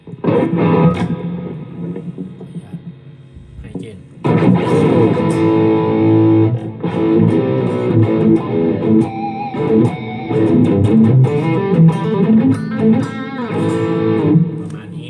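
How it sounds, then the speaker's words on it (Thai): Electric guitar played through a Kemper Profiler Stage with a high-gain overdrive tone: loud, saturated chords and riffs ringing out continuously, with a brief drop before the playing resumes. "อันนี้เป็นมาสเตอร์ โอเวอร์ไดรฟ์นะครับ ไฮเกนนะครับ"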